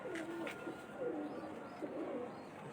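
A Fakhta breed pigeon coos softly in a repeated rhythmic pattern, faint and close, over quiet background noise.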